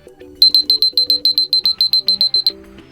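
A UMIDIGI A9 phone alarm ringtone sounds a quick series of about fifteen bright, evenly spaced electronic beeps over a soft melodic tone, then the melody continues alone.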